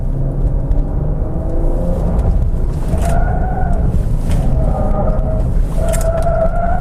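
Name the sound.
2015 Jeep driving a slalom test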